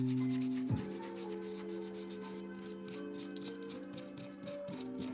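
Sanding by hand through progressively finer grits to remove Dremel grinding marks, a steady close rubbing rasp running continuously alongside a faint ticking rhythm, with no talking.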